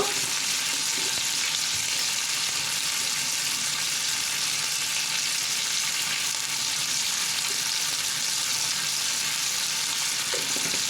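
Prawns frying in a pan with salt and kasuri methi for prawn do payaza, giving a loud, dense, unbroken sizzle that holds steady throughout.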